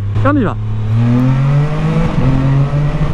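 A Can-Am Spyder F3-S Special Series three-wheeler accelerates hard through the gears, its engine note climbing and shifting loud and close, with someone speaking over it at the start.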